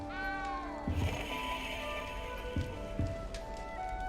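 A small cat in the Hogwarts Legacy video game gives a few soft meows over a quiet game ambience with light rain-like patter.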